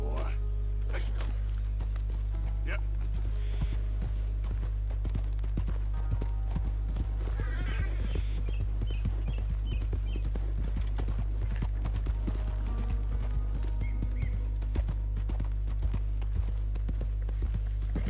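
Horse hooves clip-clopping in the video game Red Dead Redemption 2, a steady rhythmic trot heard close over a constant low engine-like drone and game background, with scattered other effects.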